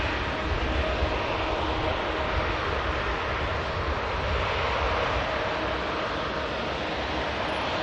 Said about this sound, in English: this one in particular is an ex-Thomas Cook aircraft